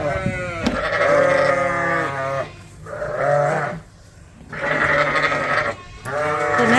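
Sheep, ewes and their lambs, bleat repeatedly and loudly up close while being moved on a winter farm, several overlapping calls in bursts separated by short lulls.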